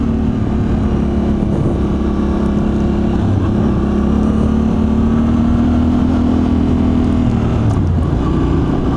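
Yamaha Tenere 700 (XTZ690) motorcycle engine under way on a ride, a steady close drone with slight rises in revs and constant wind rush throughout, no speech.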